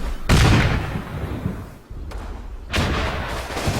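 Gunfire in the WWII tactics game Combat Mission, two or three heavy booming shots with a rough rumbling tail, close and loud, no voices.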